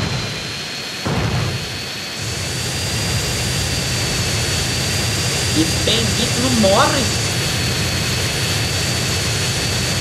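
Hydra military jet from GTA San Andreas roars as a steady, loud engine drone throughout, with someone talking over it and a brief thump near the start.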